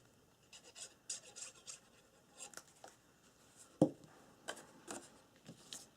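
Bone folder burnishing a paper hinge inside a handmade swaddle baby album, heard as soft, close rubbing and scraping strokes in short irregular bursts, with one sharper tap partway through and no talking.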